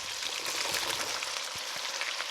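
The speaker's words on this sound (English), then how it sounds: "Let's get the onions in, kids." Chopped onions hitting a hot Dutch oven for red beans and rice, giving a steady, loud broadband sizzle with crackling pops throughout, no voices.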